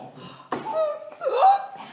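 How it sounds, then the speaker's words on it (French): A person gives a sharp, sudden hiccup with a breathy, voiced catch, followed by more throaty vocal sounds close to the microphone, all within a couple of seconds. "j'ai le hoquet aussi"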